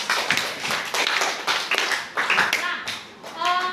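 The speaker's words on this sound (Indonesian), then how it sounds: "beri tepuk tangan untuk Anya" A school class clapping for a student in a classroom: a short burst of hand claps, close and lively, with children's voices and talk mixed in.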